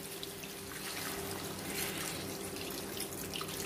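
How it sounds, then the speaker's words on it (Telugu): Water poured into a pan of aloo curry with cumin powder, a steady, close splashing and running pour lasting the whole moment, with no talk. "వాటర్ పోసుకోవాలండి"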